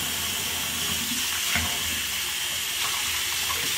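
A prosthetic gel liner is rinsed under a running tap, giving a steady close hiss of water with faint splashing.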